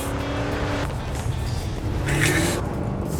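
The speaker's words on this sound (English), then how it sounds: "It's supposed to be a big, bad, dangerous muscle car." A muscle car engine roars steadily at close range on a beach, with a brief higher whine midway as it revs, no voices over it.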